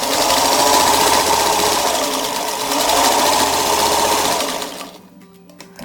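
Sewing machine stitching a homemade cloth face mask, a steady loud mechanical whir running continuously for about five seconds before stopping abruptly, leaving quiet.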